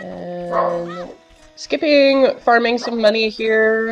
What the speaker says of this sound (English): I don't know if you can hear my dog being a total psychopath in the background.